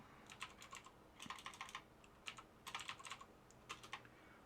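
Someone typing a git commit message on a computer keyboard: quiet, close bursts of quick key clicks in irregular clusters, with brief pauses between, no talking.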